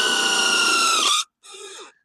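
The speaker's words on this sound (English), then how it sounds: "I'm using my impact drill." An impact drill driving a screw whirs loudly and steadily for over a second, stops briefly, then runs again in a shorter burst.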